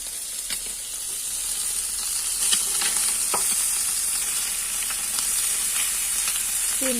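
Fish sizzling in hot oil in a pan: a steady close hiss broken by irregular crackles and spatters, with a brief scrape of stirring near the end and no voices.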